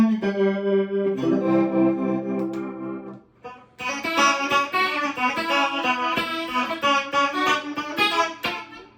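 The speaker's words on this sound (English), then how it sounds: "Something I like to do is use this as a fake 12 string with a tremolo and a chorus" Electric guitar set up as a fake 12-string with tremolo and chorus effects, shimmering sustained chords ringing out, then a brief pause before a denser strummed passage, played alone and up close.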